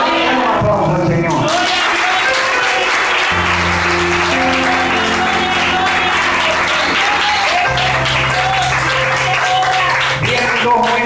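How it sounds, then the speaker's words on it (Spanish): Church congregation applauding for the Lord at an evangelical service, steady dense clapping that runs the whole stretch over sustained music. "Un aplauso al Señor."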